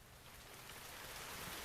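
Steady rain pouring down in an anime episode, a dense, even hiss of falling water heard alone for a brief stretch.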